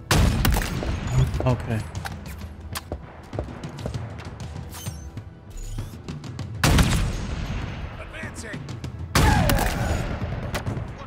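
Rapid gunfire from the video game Halo Infinite, including a mounted turret: dense bursts of shots rattle continuously, with heavier booming volleys near the end and a brief spoken word in between.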